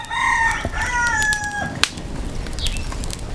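A live chicken squawks while being burned in a Bamiléké tradition, giving loud, harsh cackling calls over the first half. A sharp snap cuts in, then a noisy outdoor background continues.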